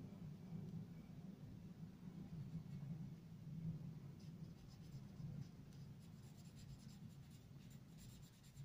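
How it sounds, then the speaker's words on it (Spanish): A pen or marker draws a belt onto a paper skirt cutout, a quiet continuous scratchy scribbling up close with low background rumble and no speech. "Le puedo dibujar un cinturón."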